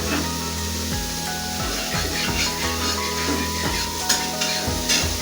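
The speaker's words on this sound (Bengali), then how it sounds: "কড়াইয়ে একটু সাদা তেল দিলাম, দিয়ে এবার দুটো ডিম দিয়ে ভুজিয়া করে নেবো।" Oil sizzles steadily in a wok as two eggs fry in white oil for an egg bhujia, a dense continuous hiss with a regular scraping rhythm from stirring, close and fairly loud with no voices.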